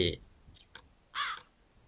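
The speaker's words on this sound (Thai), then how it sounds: "มีอีกาด้วยวะ" A crow caws in Matreshka, a horror game set in an apartment building. A short burst is followed by a single brief, raspy call, with a few faint clicks in the near-silence between.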